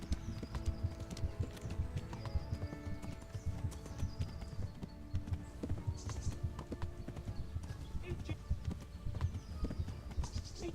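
Horse hooves clatter in a fast, steady galloping rhythm, continuous and fairly close, with faint ambient sounds from Kingdom Come: Deliverance behind.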